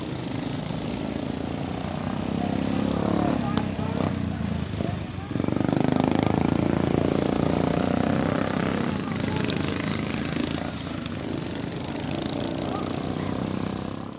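Steady engine drone from small lawn tractor motors runs throughout, buzzing and revving slightly, with voices talking over it.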